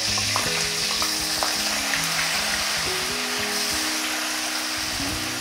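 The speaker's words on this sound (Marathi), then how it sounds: "तेल गरम झालं की गॅस बारीक करायचा आणि त्याच्यामध्ये बघा आपण असं एक सोडून घ्यायचं" Hot oil frying steadily in a kadhai over a lowered gas flame, a dense, continuous sizzle and crackle that stays loud and close throughout, with no voices.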